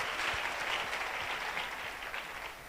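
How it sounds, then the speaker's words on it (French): A church congregation claps steadily and loudly in a dense, continuous burst of applause that keeps going without a break. "Au nom de Jésus, est-ce que tu peux applaudir pour le Seigneur?"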